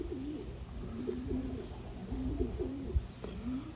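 A racing pigeon bred in the Netherlands coos in repeated soft, throaty phrases, close and steady over low background noise, with no talking.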